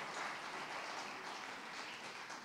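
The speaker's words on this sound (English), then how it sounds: "See, you did that and they clap." Audience clapping at a conference, a faint, steady patter of many hands heard from a distance for a couple of seconds.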